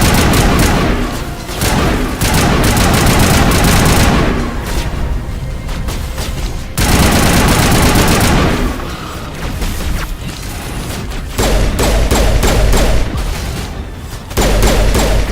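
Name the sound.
sniper gunfire in the video game Mass Effect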